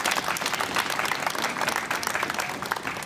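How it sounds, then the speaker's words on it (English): A crowd applauding at a school district announcement of free student transit passes, steady dense clapping filling the whole stretch at moderate volume. "Everybody's clapping."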